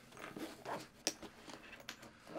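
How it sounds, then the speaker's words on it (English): A Mini BuddiPole carrying bag is unzipped up close, giving a few short, quiet zipper rasps and fabric rustles with small clicks in between. "Okay, so we unzip this."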